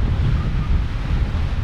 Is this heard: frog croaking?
no